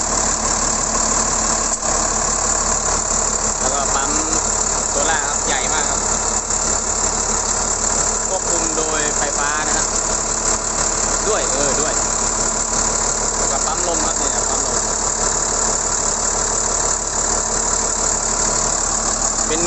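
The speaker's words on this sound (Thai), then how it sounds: "เครื่องยนต์6สูบเทอร์โบครับ" Steady six-cylinder turbo diesel engine of an XCMG LW330KN wheel loader idling close by, a constant low rumble with mechanical knocking and faint squeals throughout.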